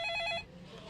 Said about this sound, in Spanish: el teléfono comenzó a sonar.